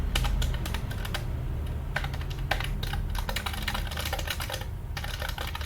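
Fast typing on a computer keyboard, a quick irregular patter of close key clicks with short pauses and a few heavier strokes, alone without speech.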